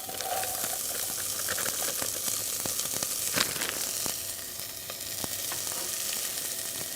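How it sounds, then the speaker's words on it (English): Chopped onion sautéing in melted butter in a soup pot, a steady close sizzle and crackle with occasional stirring clinks, no voices. "While the onion is sauteing and starting to get a little soft"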